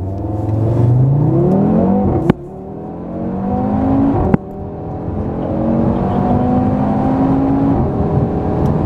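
A 2018 Audi R8 V10 Plus pulls away hard from a standstill, its engine note climbing steadily through the gears with two sharp shift breaks, loud and close throughout.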